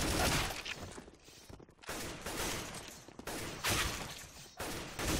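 Dense bursts of gunfire in a CS:GO jailbreak match, loud and close, coming in several rapid volleys separated by brief pauses.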